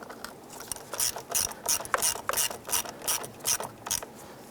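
Ratchet wrench clicking in steady bursts as a battery terminal bolt is snugged down on a 1995-2001 Ford Explorer, about nine quick rhythmic clusters of pawl clicks, close and fairly loud with no talking.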